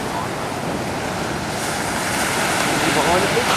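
Ocean surf at Sumbawa rolls in as a steady, broad wash of breaking waves, loud and continuous with wind noise over the microphone and no speech.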